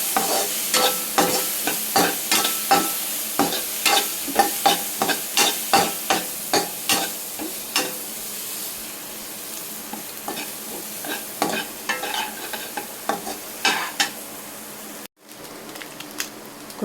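Ginger garlic paste fries on a low flame for Idli Manchurian, a steady sizzle broken by repeated rhythmic scraping stirs of a spoon against the pan, close and clear, with no talking.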